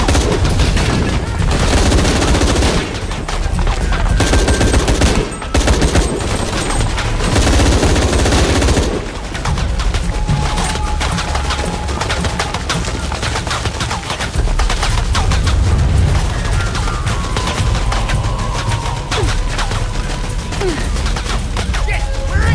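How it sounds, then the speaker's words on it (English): Rapid gunfire from Shadow of the Tomb Raider, with loud, dense bursts of automatic fire and shots crackling almost without pause through the whole stretch, heavy and close, with busy game ambience underneath. "He's gonna shoot through that wall."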